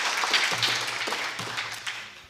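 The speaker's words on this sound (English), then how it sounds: "Can I have a loud clap then?" A crowd of women at a DXN training event in Dubai claps steadily after being asked for loud applause, a dense, even patter across the whole span with a faint low hum underneath.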